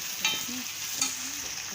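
Reddened onion and finely chopped tomato frying in a pan for a fish curry, a steady bright sizzle with a couple of quick stirring scrapes, no talking.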